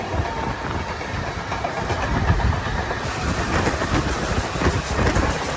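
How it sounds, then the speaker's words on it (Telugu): Krishna Express train 17406, running from Adilabad to Tirupati, rumbles along with a steady rolling roar and rhythmic clickety-clack of wheels on rail, loud and continuous throughout. "ఆదిలాబాద్ నుండి Tirupati Krishna express train number 17406"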